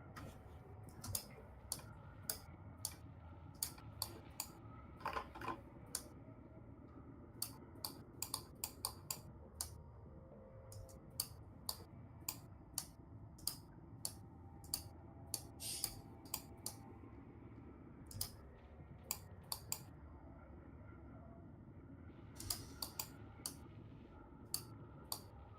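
Keyboard typing clicks at a tabletop role-playing session, sparse irregular taps in short bursts over a low background hum, no talk.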